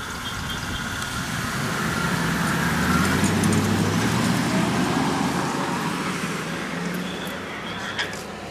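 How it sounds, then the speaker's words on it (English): A car engine runs steadily for several seconds, a continuous low rumble with roadway noise, heard from inside or close to the vehicle. "The car was already on."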